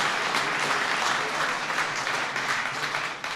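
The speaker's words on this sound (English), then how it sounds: "can I just invite you to give a big round of applause to the Second Lady of the United States of America" A large gathered crowd of veterans and guests applauds the Second Lady Karen Pence with a sustained, even wash of clapping, loud and continuous throughout.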